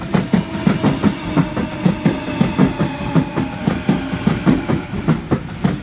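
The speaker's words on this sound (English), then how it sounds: "Another Waratah coming through." Waratah electric passenger train rolling through a station on a service, its wheels giving a steady, loud clickety-clack of repeated beats over a continuous rail rumble, with no voices.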